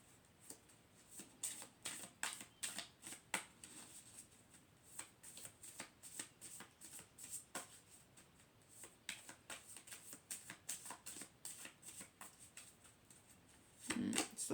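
A Moonology oracle card deck is shuffled by hand in quick, crisp riffles and snaps, a long run of close, sharp card sounds with brief gaps between bursts.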